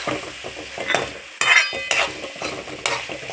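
Finely chopped potato stirred and sautéed in a pan, with repeated scraping strokes of a utensil against metal over a soft sizzle, close and rhythmic.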